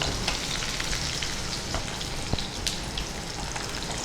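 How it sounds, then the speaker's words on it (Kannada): Okra sizzles steadily in hot oil with mustard-seed tempering, a constant close crackle and hiss with occasional sharper pops and light stirring, no voices. "ಮತ್ತೆ ಪುನಃ ಒಗ್ಗರಣೆ ಜೊತೆಗೆ ಸ್ವಲ್ಪ ಫ್ರೈ ಮಾಡ್ಕೊಳ್ತೇವೆ ಅಷ್ಟೇ."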